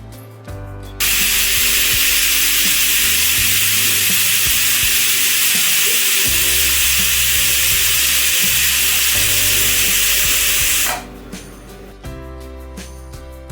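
Pressure cooker on a gas stove, cooking for a kothimbir vadi recipe, lets out a loud, sustained hissing whistle of steam lasting about ten seconds, with clattering kitchen noise before and after.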